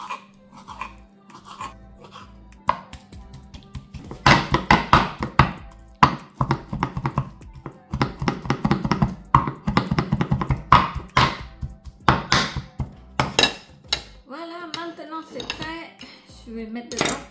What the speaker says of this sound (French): Du coup, je vais couper en petits morceaux.